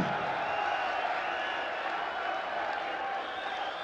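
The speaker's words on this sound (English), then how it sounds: "And the crowd already backing their man." Darts crowd at a German Darts Open round-two match cheering and backing their player, a steady dense wash of voices and shouts filling the hall at moderate level.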